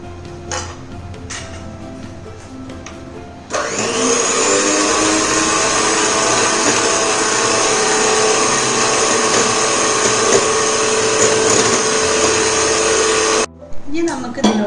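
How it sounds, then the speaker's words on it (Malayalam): Electric hand beater whirring through pineapple cake batter mixed with pineapple crush: a loud, steady, high motor whine that starts abruptly after a few seconds, runs for about ten seconds close up, then cuts off. "അത് ഇതിലേക്ക് ചേർത്തിട്ട് ഒന്ന് ബീറ്റ് ചെയ്ത് കൊടുക്കാം."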